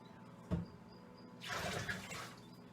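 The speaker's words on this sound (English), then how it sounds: "put some hot water in it so it doesn't crack when you put the water from the kettle in" Hot water from a kettle is poured into a blender canister. There is a quiet knock, then a soft, brief rush of pouring water, all faint and close.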